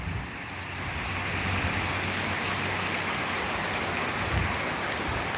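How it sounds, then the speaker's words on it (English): Heavy rain pours in a steady, dense hiss that never lets up, even and moderately loud with no voices. "Man, all this rain."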